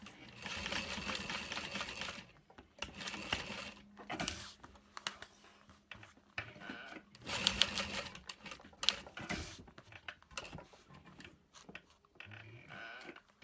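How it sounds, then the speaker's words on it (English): A sewing machine stitches a handbag in short intermittent bursts, fairly quiet and close, separated by pauses filled with small handling clicks and fabric movement. "Remove one of these and sew it into place."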